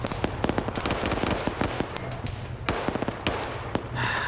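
Grenadier explosions landing close by in a team video game, a rapid scattered string of sharp blasts and pops, loud and near, with no talk.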